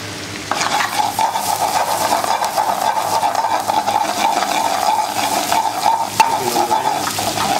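Prawns sizzle loudly in a pan with melted parmesan, a bright steady frying hiss that jumps up as they go in and carries on evenly, with occasional stirring clatter and no voices.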